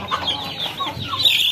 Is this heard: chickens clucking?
yes